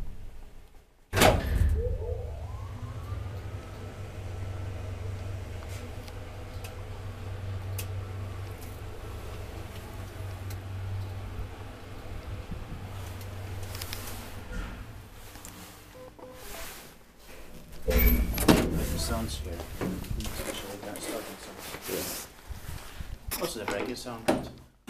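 An old Schindler traction elevator in Järvenpää starts with a clunk, then runs with a low steady hum and mechanical rumble, with another thump and rattling near the end.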